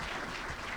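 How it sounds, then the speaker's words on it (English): Audience applause at a celebration event, a dense, steady wash of clapping filling the brief moment at moderate volume with no voices over it. "Can we get a round of applause for all of us?"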